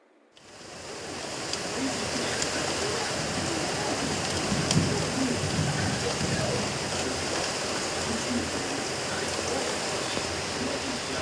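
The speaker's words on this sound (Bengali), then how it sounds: "চলুন বৃষ্টির শব্দ শুনে আসি" Heavy rain pours steadily outside, a dense, continuous wash of drops that holds an even loudness from start to finish with no voices over it.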